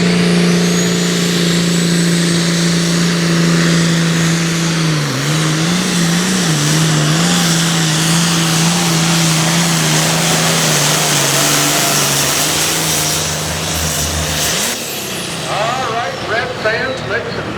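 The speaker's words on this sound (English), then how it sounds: "Up now, Brian Morrison with the Shed Checker 1206." Pulling tractor engine roars at a sustained high rev during a pull at a truck and tractor pulling event, the pitch wavering and sagging midway before the engine cuts off near the end, with an announcer talking over it.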